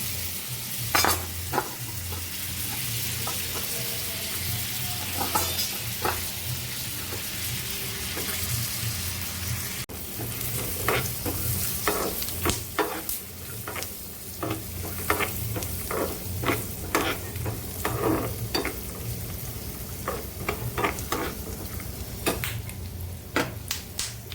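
Spices and green peas fry in ghee, sizzling steadily with frequent sharp clicks and scrapes from stirring, close by and fairly loud, with no talking.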